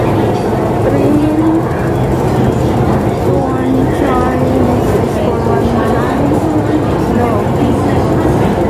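Inside a Hong Kong MTR station, a subway train rumbles in loudly with a steady roar and rising and falling metallic squeals from the wheels, while people talk nearby over the noise.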